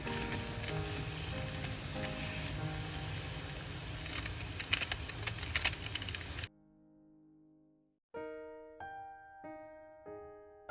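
Fish cutlets deep-fry in hot oil with a dense, steady sizzle for several seconds, then cut off abruptly, followed by silence and a few ringing tonal beeps.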